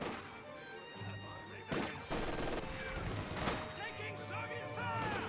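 MG-40 machine gun fire in the WWII strategy game Company of Heroes 2, faint bursts and impacts under continuous commentary.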